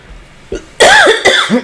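A short throat sound, then two sharp, close coughs in quick succession, loud and abrupt.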